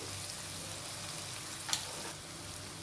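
Eggplant curry sizzles in a pan as it is stirred with chili, coriander, turmeric and sambar powders, a steady broadband fry close by with a brief sharp scrape near the middle and no voices.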